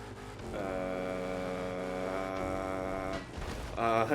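Modded 1187-horsepower Hellcat engine in a racing video game, a steady droning roar that holds level for several seconds, then shifts and rises at the end, with faint talk underneath.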